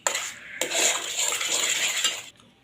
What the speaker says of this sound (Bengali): দইটাকে মিশিয়ে দিচ্ছি।